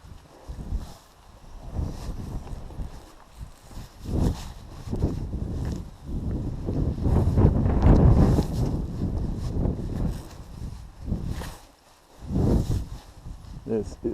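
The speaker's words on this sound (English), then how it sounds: "The wind makes things a little trickier, but it is blowing me towards the rock" Strong gusts buffet the microphone on an exposed alpine mountain trail, rising and falling in loud rumbling surges, with a hiker talking between the gusts.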